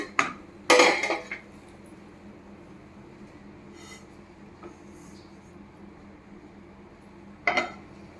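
A ladle mixes fried semolina and sugar in a pan for laddus, with a few sharp metallic scrapes and clanks separated by quiet stretches, close and moderately loud.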